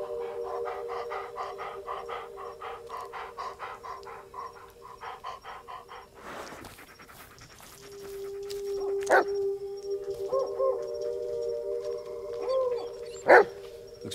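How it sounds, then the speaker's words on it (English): A dog in the Blair Witch video game gives a run of rhythmic barks and pants over a steady low game drone, then a few sharper yelps and whimpers stand out near the end. "Yeah, good dog."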